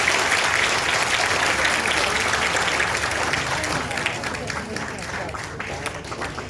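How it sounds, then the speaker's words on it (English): Sustained audience applause for a mentor at a tour event, thick and continuous clapping that tapers slightly, with faint voices mixed in. "let's give our mentor, Kim Reed, another round of applause."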